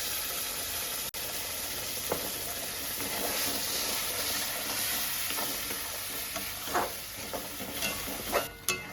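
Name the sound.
pointed gourd peel paste being cooked with prawns in a pan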